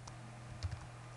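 Computer keyboard typing while editing text in Orchard CMS: a couple of soft, quick key clicks close by in a quiet room, with no voices.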